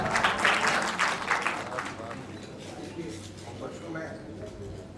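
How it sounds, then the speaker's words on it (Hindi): Audience clapping at the Dadasaheb Phalke Awards 2020 ceremony, a dense burst of applause for about two seconds that fades into a murmuring crowd and a voice talking. "जोरदार तालियां हो जाए"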